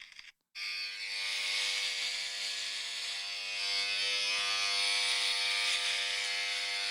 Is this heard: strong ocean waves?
no